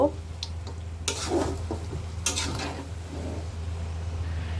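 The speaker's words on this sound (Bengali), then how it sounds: "কাঁঠাল গরু মাংস কষানো হয়ে গেছে, এখন একটু নেড়ে নিব।" A spoon stirs braised jackfruit and beef in a cooking pot, giving a few scraping, sizzling strokes over a steady low hum, moderately close.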